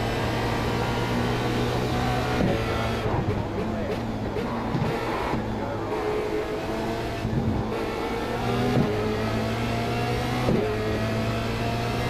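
Formula Renault 2.0 race car engine at the Circuit Gilles Villeneuve in Montreal in the iRacing sim: a steady high engine whine that rises and drops through repeated gear shifts, while someone talks over it throughout.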